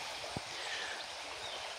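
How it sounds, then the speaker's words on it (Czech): The Orlice river flows as a faint, steady wash of water, continuous and even, with a brief low knock early on and no voices. "My jsme u řeky Orlice"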